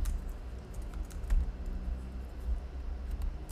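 Steady typing on a computer keyboard while entering a column name in an Excel-linked iLogic rule: quick, soft key clicks in an uneven rhythm, close and fairly quiet, with no voices.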